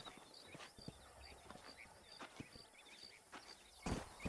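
Horse hooves clip-clopping at a steady walking pace in the Red Dead Redemption video game, with clear distinct strikes, faint background ambience, and a louder thump near the end.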